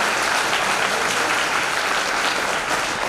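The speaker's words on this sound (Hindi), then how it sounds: "ऐसे महान व्यक्तित्व के लिए एक बार जोरदार तालियां होनी चाहिए" An audience at a school awareness program claps loudly and steadily throughout, a dense wash of applause with no voices on top.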